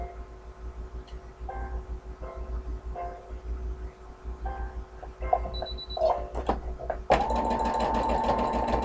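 A sewing machine stitching around a hexagon-shaped piece, with short bursts of whirring separated by pauses as it stops and pivots at corners, ending in a longer continuous run, close and clear.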